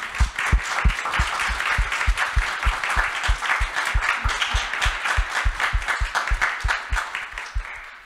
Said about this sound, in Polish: Chyba należą się brawa na koniec.